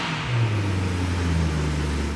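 A supercar's V8 engine idles with a deep, steady rumble, its pitch stepping up and down slightly as it is blipped, close and loud with no talking over it.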